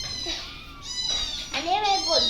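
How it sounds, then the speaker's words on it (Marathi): A mother cat meows repeatedly near her litter of tiny kittens in a home yard, several clear, drawn-out close cries, loud and distinct, with no talk. "मांजरीला घेऊन आलाय."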